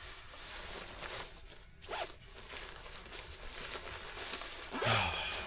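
A zipper is drawn up as a jacket goes on before heading out into a blizzard and ice storm, with a few quick rasping pulls and rustling fabric, close and fairly loud.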